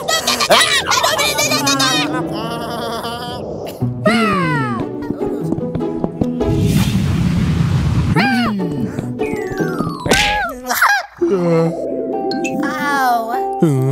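A cartoon bird gobbling in a series of warbling, turkey-like calls, loud and close, mixed with other animated voices and a burst of noisy hissing in the middle.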